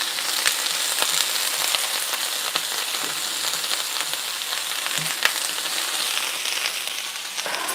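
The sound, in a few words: stirring cabbage and onion in pan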